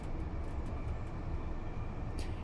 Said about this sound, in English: And these trains have some pretty nasty sounds.